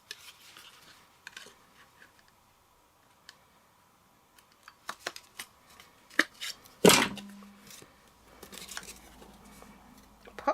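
A handheld punch clicks sharply through a paper gift card once, a single loud snap standing out from quiet rustling of paper and small desk handling noises.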